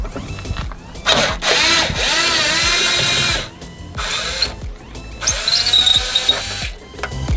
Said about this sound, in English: now we're switching the T25 bit to a T30. And getting rid of the bolts on the inside of the wing area here.